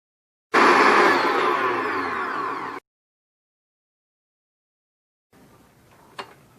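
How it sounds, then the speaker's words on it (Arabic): An electric mixer whirs steadily for about two seconds while beating pastry cream, loud and close, then stops; after silence, faint kitchen noise and a brief clack follow. "فوالا نضربها بيان بالبيترا. تقدروا تستعملوا الباتور"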